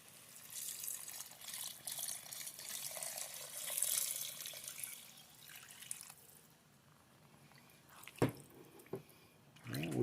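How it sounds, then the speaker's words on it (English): Water poured from a cup into a pot of meat mixture, a soft gurgling trickle for several seconds followed by quieter sloshing and a few clunks, fairly faint and without talk. "Now we're going to put in our first 4 cups of water."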